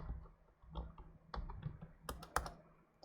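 Someone typing an IP address on a computer keyboard: a sparse series of soft, close keystroke clicks, irregularly spaced, with a couple of sharper taps near the end in a quiet room.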